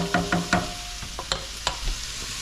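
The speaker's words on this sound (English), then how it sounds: "Give that a quick stir." A wooden spoon knocks and scrapes through pasta in a pot with several quick taps in a row, then a few sparser scrapes over a faint sizzling background.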